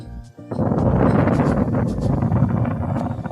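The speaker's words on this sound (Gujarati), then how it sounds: "થોડોક પવનનો અવાજ આવતો હોય" Wind blasts straight into the microphone near a dam, a loud continuous low rumble and roar that starts abruptly and keeps buffeting.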